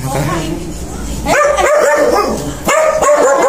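A dog barks in short loud bursts, two clusters of close barks and yips, while people talk over and around them.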